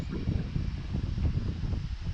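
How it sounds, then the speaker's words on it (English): Gusty wind buffets the microphone with a low, rumbling roar that rises and falls throughout. "It's a real windy day."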